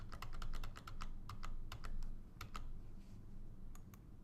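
Rapid, uneven key clicks from a computer keyboard as a password is typed in payroll software, a close run of sharp taps with short pauses over low room hum.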